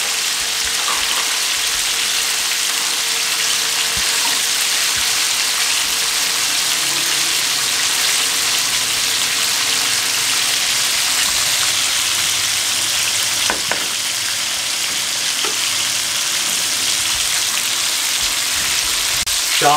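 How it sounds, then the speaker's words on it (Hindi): Aubergine pakoras deep frying in hot oil over a medium flame, a dense, even crackling sizzle that runs loud and unbroken throughout, with a couple of faint clinks and no voices. "इनको इस तरीके से साइडें चेंज करके फ्राई करते रहेंगे 4 मिनट मीडियम फ्लेम पे"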